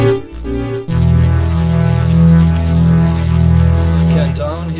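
A Yamaha MODX synthesizer plays an FM tone blended with an AWM sample: after a brief stutter, a steady, loud sustained pad-like chord with a low, buzzy, harmonic drone holds for several seconds on its own.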